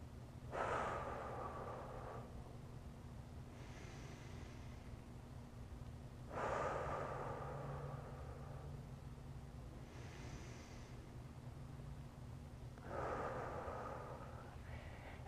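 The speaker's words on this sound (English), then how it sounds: "I want to take 5 deep breaths, exactly the way that we just did" Three slow, deep breaths during a breathing exercise, each a drawn-in inhale followed by a long airy exhale, spaced about six seconds apart, close and quiet over a low steady hum.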